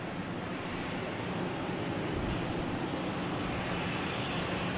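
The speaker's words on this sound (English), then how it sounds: "Alright, we have an American Airlines taking off," An American Airlines Embraer E-175 jet taking off at Boston Logan Airport, a steady broadband engine roar heard from a distance, level and continuous throughout.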